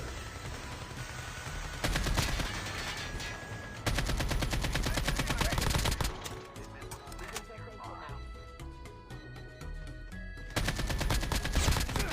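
Gunfire from shooting bots in Call of Duty Mobile, bursts of rapid automatic shots in several long stretches, loud and close, with game sounds and a voice talking over parts of it.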